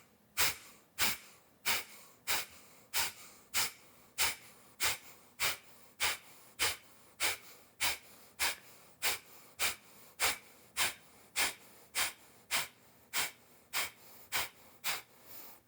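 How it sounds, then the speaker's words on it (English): Rhythmic yoga breathing through both nostrils, about thirty short forceful breaths in an even, rapid pulse, close and clear with no talking. "Take a breath in through both nostrils. Exhale through both nostrils, all of the air out"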